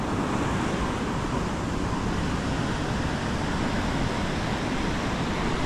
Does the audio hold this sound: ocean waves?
yes